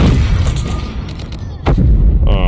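Gunfire and explosive booms in a Call of Duty match with an FFAR-1 rifle, loud and dense throughout, with a sharp crack near the end and a voice talking briefly over the chaos.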